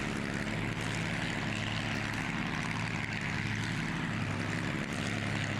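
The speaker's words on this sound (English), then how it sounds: "that big Allison aircraft engine easily propels the big purple Chevrolet through the mud pit" Allison aircraft engine fitted in a big purple Chevrolet monster truck in BeamNG Drive, droning loud and steady as it drives through a mud pit in an Arrowhead Stadium event, with no talking.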